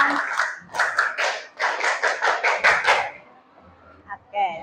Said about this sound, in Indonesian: Tepuk tangan buat kelompok panjang.